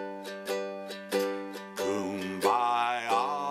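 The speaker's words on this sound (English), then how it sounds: "now I'm going to play it with a swing shuffle." Ukulele strummed in a swung eighth-note shuffle, bright chord strokes bouncing in a steady lilting rhythm for a short phrase of Kumbaya, close and clear.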